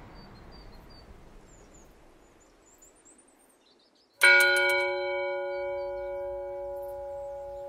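A single church bell of Santo Adrião struck once in a village, ringing out clearly with a long humming decay after a quiet stretch of faint birdsong and ambient hush.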